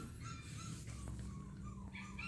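Young puppies whimper and yip in a few thin, high cries over a faint, steady background hum, fairly close and quiet.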